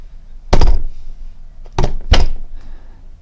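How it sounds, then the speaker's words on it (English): Three heavy thuds from an apartment upstairs, a single loud impact followed about a second later by two more close together, booming through the ceiling in an otherwise quiet room. "A loud thudding noise from the apartment upstairs stirred me from my sleep."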